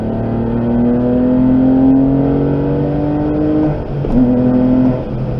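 A Porsche 996 engine pulls up a steep uphill grade, a steady droning hum with a rising tone that drops briefly near the end, likely a gear change, before resuming, heard from inside the car.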